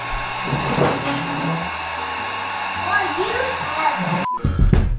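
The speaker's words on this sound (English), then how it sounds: "The placeholder does not like the heat gun." A heat gun blows steadily on heat shrink tubing over soldered diodes, a loud continuous whoosh lasting several seconds before it cuts off abruptly, with faint talk beneath.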